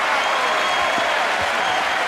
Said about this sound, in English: to acknowledge now the cheers of this crowd